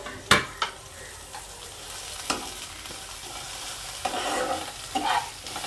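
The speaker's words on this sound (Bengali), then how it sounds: "এবার এই টমেটোটাকে ভালো করে ভেজে নেওয়া হবে।" Chopped tomatoes and salt frying with onion in a pan for a Bengali small-fish chochchori, a soft steady sizzle broken by several sharp scrapes and knocks of the stirring spoon against the pan.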